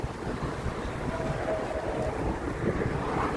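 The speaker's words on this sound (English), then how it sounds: "it's a bit windy" Gusty wind buffets the microphone outdoors along a beachside shopping stretch, a steady low rumble with rushing noise throughout and no voices.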